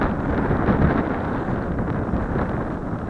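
Wind sweeps across an open field while a small three-channel RC airplane flies, producing a loud, continuous rumbling buffet against the microphone with no other clear sounds.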